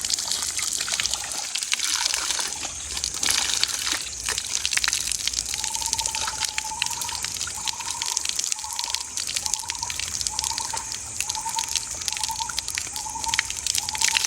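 Water splashes and trickles continuously from a tap outdoors on a hillside in a forest, with a steady rushing hiss and a faint repeating tone behind it; nobody speaks.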